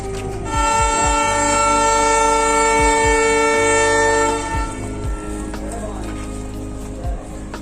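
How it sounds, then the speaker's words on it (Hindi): A YDM-4 meter gauge diesel locomotive sounds a long, loud, steady horn blast for about four seconds, with rhythmic clanks and low engine rumble continuing after the horn stops, all close by. "हम लोग की जो ट्रेन है YDM-4 लोकोमोटिव के साथ वो हॉर्न दे चुकी है"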